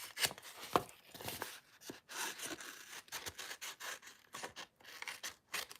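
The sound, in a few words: paper trimmer trimming card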